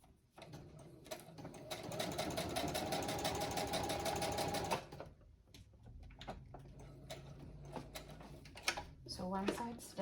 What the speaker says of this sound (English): I'm just going to straight stitch right down here and here.